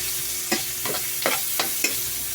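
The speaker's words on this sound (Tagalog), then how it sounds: "So ilagay na natin tong ginahit nating sibuyas." Sliced onion sizzles in hot oil with a steady broadband hiss, broken by five soft scraping stirs at roughly even intervals, close and moderately loud with no talking.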